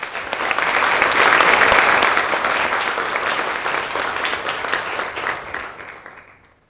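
Audience applauds to welcome Gujarat's home minister on stage, a full, loud wash of clapping that swells quickly, holds, then tapers off over several seconds.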